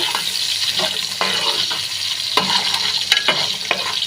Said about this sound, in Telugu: అది ఉల్లిపాయలు అయితే వేగియాయి